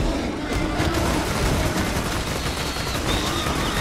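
Rapid automatic gunfire in the video game Borderlands 2, a dense, continuous burst of shots with booming impacts, loud and sustained with no speech.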